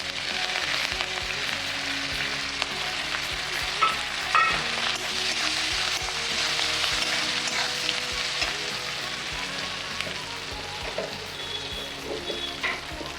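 Dry fish frying with dried chillies, garlic and curry leaves, a steady close crackling sizzle in oil broken by stirring scrapes, with no talk.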